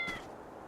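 A cat in the video game Fantasian Neo Dimension gives a single short, quiet meow that fades quickly into soft background ambience.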